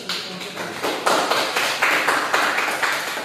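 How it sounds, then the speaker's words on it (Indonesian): A classroom group gives a round of applause, moderately loud and close, with dense clapping that comes in uneven rhythmic surges and holds steady for several seconds. "Beri aplaus."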